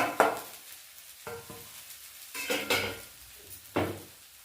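Spices added to a frying pan and stirred while cooking cashew pieces, with several sharp scrapes and clinks of a utensil against the pan over a soft sizzle, close and intermittent.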